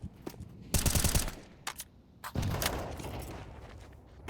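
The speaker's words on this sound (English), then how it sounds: "AK sprays through the smoke" Bursts of AK rifle fire spray in Counter-Strike, with a dense rapid volley early on and a longer sustained stream of shots later, loud and close.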